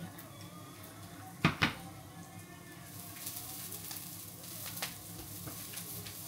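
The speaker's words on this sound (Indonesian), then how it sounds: "Kita tumis sampai harum." A pan stir-frying in a home kitchen gives a soft, steady sizzle, broken by two sharp clanks of utensil on pan early on and lighter taps later.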